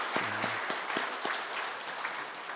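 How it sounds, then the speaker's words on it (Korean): Applause rises from a church congregation during a Sunday service, a dense crowd clap that is moderately loud and steady for a couple of seconds, with a few low voices mixed in at the start. "우리 하나님 앞에 영광의 박수 올려드리겠습니다"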